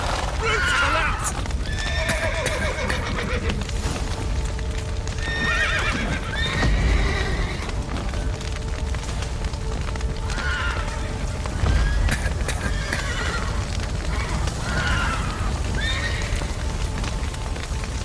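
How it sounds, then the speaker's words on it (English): Horses in The Witcher 3 neigh and whinny repeatedly over steady clip-clopping hooves, set within a loud, dense game soundscape with rain-like ambience and voices in the background. "The horses!"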